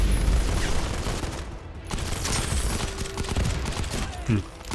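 Gunfire in the mobile shooter Modern Combat 5: rapid, close bursts of shots with booming impacts over a dense battle din, and a voice talking in places.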